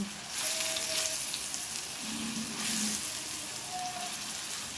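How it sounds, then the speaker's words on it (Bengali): Jackfruit pieces fry in mustard oil with a steady, close crackling sizzle that holds level throughout, with a few faint tonal squeaks from the pan. "আমি উল্টো উল্টো সবগুলোকে ভেজে নিচ্ছি"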